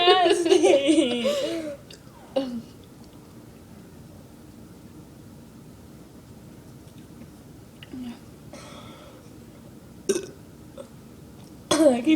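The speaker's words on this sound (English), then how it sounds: "I keep burping." Several loud, close burps after drinking soda during a burping contest, mixed with giggling and laughter, with quieter gaps between the bursts.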